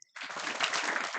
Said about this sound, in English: Half here, half there. Can't you people have two unanimous claps?